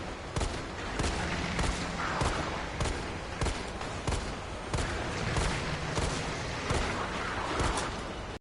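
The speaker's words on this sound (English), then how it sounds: "have your handgun ready, and go ahead and just start popping shots" Dense, loud bursts of gunfire in the Resident Evil 3 video game, with repeated handgun shots cracking over a continuous roaring game soundtrack.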